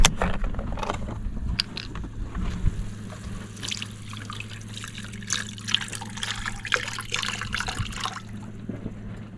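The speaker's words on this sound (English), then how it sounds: "Maybe let's put more of the broth in there." Broth poured into a cooking pot in a van kitchen, a steady trickling, dribbling liquid sound close by over a low background hum, continuing for several seconds.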